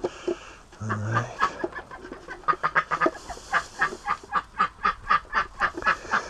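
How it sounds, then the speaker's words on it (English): Farm ducks and geese honking, a quick run of repeated nasal quacks and honks, close and loud, in a steady pulsing rhythm after a brief lower call. "these ducks are really possessive"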